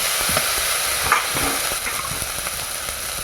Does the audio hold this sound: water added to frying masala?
yes